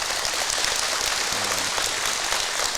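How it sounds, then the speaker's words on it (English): A live podcast audience in Mt. Hope, Ohio claps steadily, a dense, even patter of many hands close by, with no talk over it. "Give him a round of applause."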